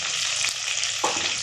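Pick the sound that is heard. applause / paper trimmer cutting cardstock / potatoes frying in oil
potatoes frying in oil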